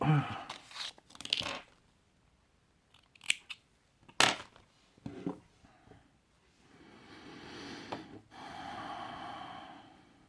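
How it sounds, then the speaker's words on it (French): Scissors snip sharply several times at close range, sounding crisp and quiet, during assembly of a Kof RDTA vape atomizer, with soft breathing and handling rustle between cuts. "La paire de ciseaux."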